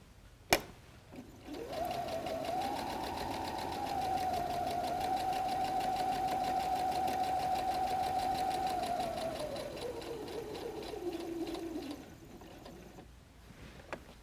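Sewing machine stitching a messenger bag runs in one steady, fast whirring burst of about ten seconds, slowing briefly at the end, with a click before and after and no voices.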